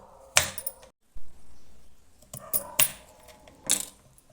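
Kitchen knife slicing through a washed raw potato, a few crisp chopping taps spaced apart on a board, faint and close in a quiet room.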